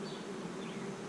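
A dense swarm of bees inside a beehive hums steadily and continuously, close and moderately loud, with no voices.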